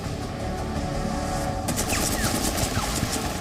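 A warship's rapid-fire close-in gun lets off a dense fusillade, a loud continuous crackling roar that intensifies after the first second and a half.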